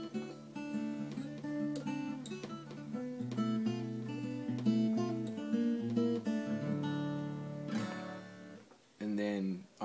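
Fingerpicked acoustic guitar pattern with a steady repeated octave note, plucked close and clear in a gentle, even rhythm for several bars. A short different sound near the end interrupts it.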